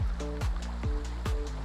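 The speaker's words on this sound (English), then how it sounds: "3-4 foot waves" Rough ocean swells of three to four feet roll against a small boat at night, giving repeated deep sloshing surges and hull thumps in a steady rhythm, loud and close, with no voices.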